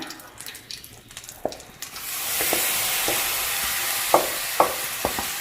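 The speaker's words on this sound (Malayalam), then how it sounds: "ഇനി പിന്നെ നമുക്ക് ഗോതമ്പ് നുറുക്കിട്ടിട്ട് വറുത്തെടുക്കുകയാണ്" Steady sizzling hiss of broken wheat roasting in butter, with a few sharp scrapes and taps of a spoon stirring the pan.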